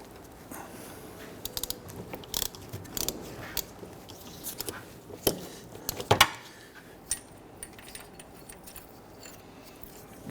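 Quiet, irregular metallic clicks and ticks of a ratchet working a 14mm idler pulley bolt on a 2011-2015 Kia Sorento 2.4L engine, scattered short bursts close by.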